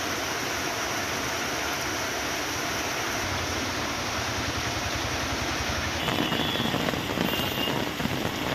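Heavy rain pours steadily in Rajapalayam, a dense, constant hiss of drops on surfaces that swells slightly louder toward the end.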